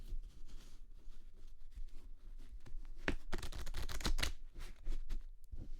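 Playing cards being riffle shuffled nearby, with soft rustling followed by quick bursts of fluttering clicks as the cards interleave.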